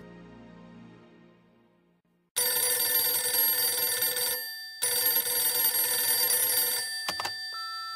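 A home telephone bell rings loudly in two long bursts, starting after a fading musical tone, close and insistent, with no voices.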